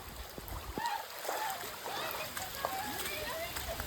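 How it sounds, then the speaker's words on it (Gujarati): Water rushing out of a burst village pond after a full day of nonstop heavy rain: a continuous splashing roar with voices, including a child's, talking over it. "તળાવ ફૂટી ગયો એટલે આટલું બધું પાણી આવે છે"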